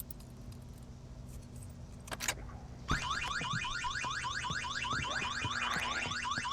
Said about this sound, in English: First thing I need to do is turn off that alarm.